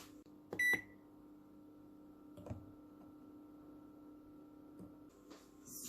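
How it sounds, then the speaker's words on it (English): Butter and sugar heating in a microwave oven, with a low steady hum running throughout, a short beep and a click near the start, and a few faint clunks. "And into the microwave it goes."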